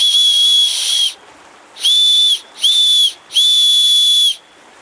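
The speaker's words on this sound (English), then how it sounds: "you can see it has a whistle right here" A loud, shrill survival whistle on a paracord bracelet blown in four piercing blasts, the first and last held longest, with short silent gaps between.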